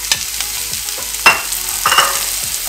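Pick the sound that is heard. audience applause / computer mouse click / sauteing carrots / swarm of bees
sauteing carrots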